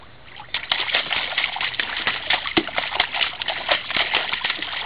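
A child splashes water in a small pool, with irregular slaps and sloshes coming in quick bursts close to the microphone.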